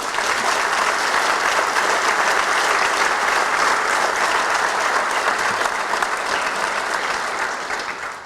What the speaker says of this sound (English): let's give another round of applause to tonight's inductees.